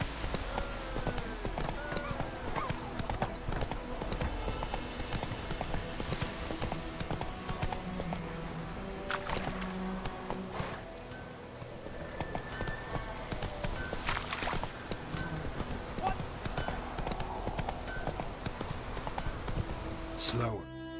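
Horse hooves clip-clop at a steady trot in The Witcher 3: Wild Hunt, rhythmic and close, mixed with game music and ambient sound while a voice talks over it.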